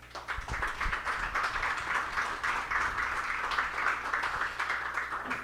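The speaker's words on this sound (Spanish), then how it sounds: "Nos despedimos dándole un fuerte aplauso a la Santa Madre." Applause for the Holy Mother at the close of a Catholic talk on consecration to Mary, a steady crowd clapping throughout, fairly near and sustained without a break.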